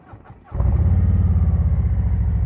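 A 2024 Harley-Davidson Street Glide with Chromeworks slip-on exhausts cranks briefly, then catches and settles into a loud, deep, throbbing idle rumble close by.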